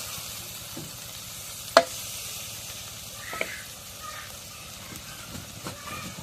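Spice paste of ground garlic and cumin frying in a pan, a quiet steady sizzle with a few soft stirring scrapes and occasional brief clinks, fairly faint throughout.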